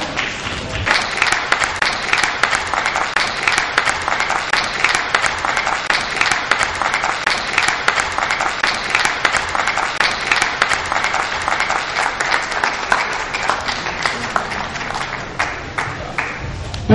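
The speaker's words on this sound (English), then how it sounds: "Please put your hands together for the Federal Republic of Nigeria." Sustained applause fills a conference hall at a West African health exhibition as a crowd claps for the Federal Republic of Nigeria, dense and steady throughout with no voices on top.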